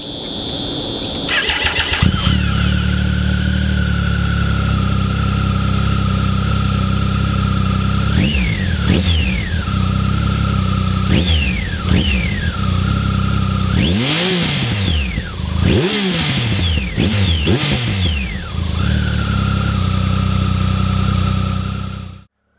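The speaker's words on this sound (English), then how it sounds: "you can get a feel for what this 1050 Triple sounds like" A Triumph Speed Triple S motorcycle's 1050cc three-cylinder engine cranks and catches, then idles loudly up close between a series of sharp throttle blips that rise and fall, several coming in quick succession before it settles back to a steady idle.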